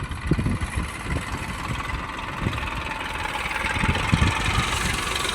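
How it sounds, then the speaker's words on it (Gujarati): A loaded tractor runs on a farm track near a shed, its engine chugging in a steady, uneven low rumble that grows slightly louder toward the end, with no one talking. "જો ટ્રેક્ટર તો આવી ગયું ભરાઈને"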